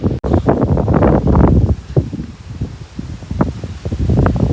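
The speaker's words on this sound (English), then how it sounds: "See, it's really windy in here." Strong wind buffets a microphone outdoors near an old tree, coming in loud, uneven rumbling gusts that swell and fade throughout.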